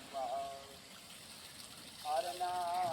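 Water gushes and splashes steadily across a floor being washed down, with a louder surge near the end. A voice talks faintly over the flow.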